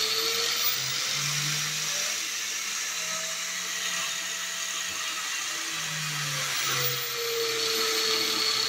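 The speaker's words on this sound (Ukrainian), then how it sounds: "болгарочка у нас, наприклад, китайського виробництва Start Pro, копія макіти. І регулюємо оберти." Chinese-made Start Pro angle grinder, a Makita copy, running at low speed set by a dimmer, a steady high whine that holds without break and slowly wavers in pitch.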